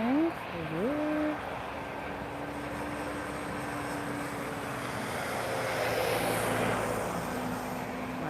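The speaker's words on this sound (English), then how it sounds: "One more Boeing for you." A Boeing airliner at Lisbon Airport sends out a steady, broad roar that holds across the whole stretch, with a brief voice near the start.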